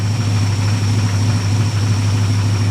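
Engine of a 1973 Plymouth Scamp flood car running close by, a loud steady low hum with a constant droning tone and slight vibration, no clear rise in revs.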